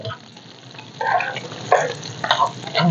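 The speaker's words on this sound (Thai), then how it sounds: "ปลาทูค่ะสองตัวนะคะ ใส่ลงไปผัดก่อนนะคะ" Two mackerel in pieces are stir-fried in a pan for fried rice, a close sizzle with a few bursts of scraping stirring, loud and brief with no talk.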